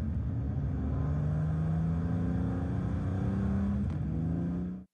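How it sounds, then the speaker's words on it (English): BMW M2 engine heard without active sound design, a steady loud droning rumble with a slowly rising tone held for about five seconds before cutting off abruptly. "BMW M2 without this technology"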